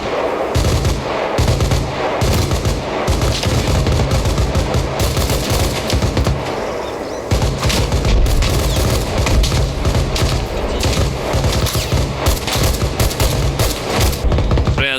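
Heavy automatic gunfire in the game Arma Reforger rattles nonstop at close range, dense bursts and booming shots blending into a loud, sustained barrage.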